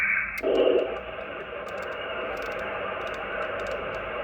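Amateur radio shack FM receiver on a quiet band: a brief burst of tone and static, then a steady low hiss with faint crackles and scattered ticks, fairly quiet and without voices.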